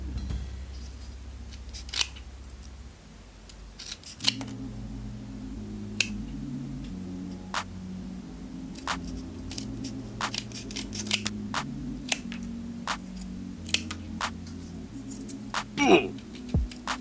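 Scissors snip cardboard box paper in crisp, irregular clicks and cuts near the microphone while soft background music plays underneath.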